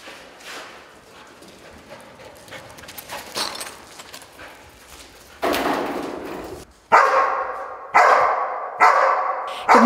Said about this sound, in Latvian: Meklētais atrasts suns apstājas un ar savu balsi apliecina, ka darbs izpildīts.